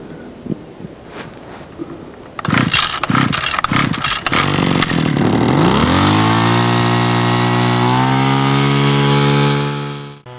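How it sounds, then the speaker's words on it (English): Small two-cycle engine on a sap transfer pump at a sugar house: a few cranking pulls, then a sputtering start that settles into a steady, loud, buzzing run close by before cutting off at the end. "There's a little two-cycle engine."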